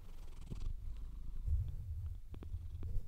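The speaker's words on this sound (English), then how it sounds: "I'm trying to get purrs on the microphone." A domestic cat purrs close to the microphone, a continuous low rumbling vibration that swells and pulses steadily with each breath, with a few faint soft clicks over it.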